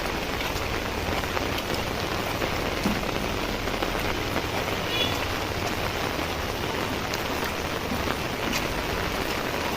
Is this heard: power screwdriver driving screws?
no